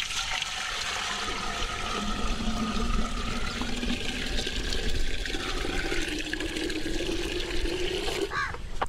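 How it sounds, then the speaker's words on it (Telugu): Ten litres of water poured into a pot for a vavili (Vitex) leaf decoction, a steady rushing, splashing stream running continuously and fairly close, with a faint shift in tone as the pot fills. "ముందుగా ఆ కుండలో 10 లీటర్ల వాటర్ పోసి ఆ కుండ పొయ్యి మీద పెట్టండి."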